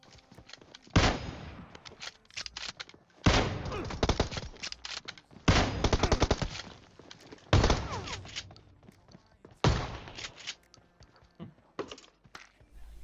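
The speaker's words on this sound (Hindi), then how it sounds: "मैं गोली चला रहा हूँ कार नाइनटी की" Rifle fire in the PUBG Mobile video game, a series of about six sharp loud shots, each ringing out with a decaying tail, spaced roughly two seconds apart, with faint clicks in between.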